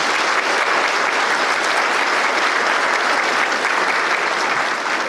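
A chamber of commerce annual banquet audience gives its event sponsors a loud, sustained round of applause, steady dense clapping filling the room for the full stretch without a break.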